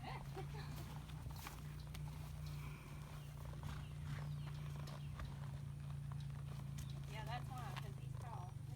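A short, fat horse walks up to a gate, its hooves clip-clopping steadily at close range over a constant low hum, with people talking throughout.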